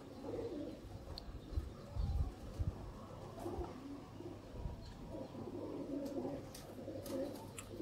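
Sialkoti pigeons in a flock of about 35 coo softly with occasional chirps, low and steady in a quiet yard, with scattered light rustles and no talk.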